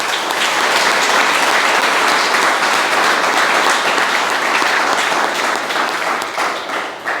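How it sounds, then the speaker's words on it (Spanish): A congregation at a Catholic Mass claps together in sustained, dense applause that stays loud for several seconds before tapering slightly at the end. "Un aplauso para ustedes."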